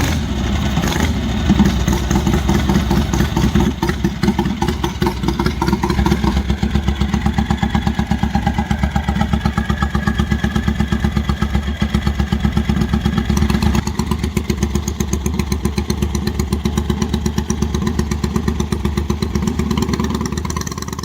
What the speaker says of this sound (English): racer blending a Vincent V-twin with a Norton frame, firing up with a deep, throaty growl